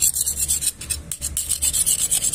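A worn mechanical engine part being scrubbed clean by hand, steady rasping strokes repeating in a quick rhythm, close and fairly loud with no talk.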